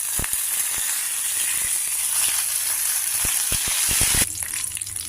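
Curry leaves dropped into hot tempering oil with urad dal, chana dal, cumin and mustard seeds, giving a loud, close, hissing sizzle with sharp pops and spatters, briefly surging louder near the end; no talking.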